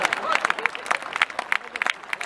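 Scattered clapping from an audience at a comedy poetry show, uneven sharp claps over a busy room murmur across a short burst.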